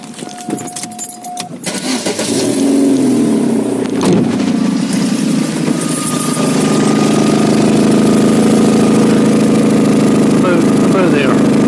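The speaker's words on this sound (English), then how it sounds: "It's flexi, but the exhaust has blown. I'll let you hear it so you can actually hear what it sounds like." Vauxhall Astra H engine with a blown exhaust flexi downpipe, starting after some key jangling and handling noise, then settling into a steady, loud, close rumbling idle with a rough, flatulent exhaust note.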